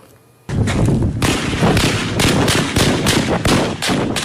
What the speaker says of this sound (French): des explosions kamikazes suivies de rafales d'armes automatiques ont arraché les populations à leur quiétude